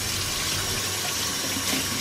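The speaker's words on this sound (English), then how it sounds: "I will wash my hands today." Tap water runs steadily into a sink for hand washing, a loud continuous gushing splash with no pauses.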